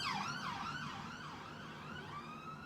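An emergency vehicle siren wails in repeated rising and falling sweeps, faint and distant, running continuously with no talking over it.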